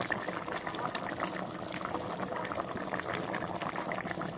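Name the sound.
curry with chicken masala boiling in a pot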